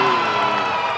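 A Brazilian wrestling crowd cheers and applauds while a wrestler climbs to the top of the ring, a dense, loud roar of voices and clapping that holds steady throughout.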